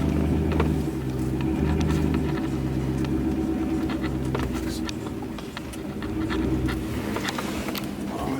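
A vehicle backing a trailer up beside a building gives a steady low engine rumble that idles and revs slightly throughout, with faint scattered clicks and rattles on top.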